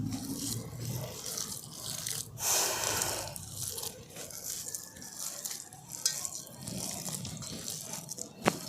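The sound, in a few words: mixing sago with oil by hand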